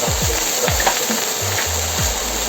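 Frozen green peas sizzle and fry in a hot pan with steady crackling, broken by several low scraping stirs that sweep across the pan as they are moved about.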